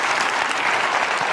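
Studio audience clapping on a daytime talk show, a steady dense wash of applause that fills the whole moment without a break.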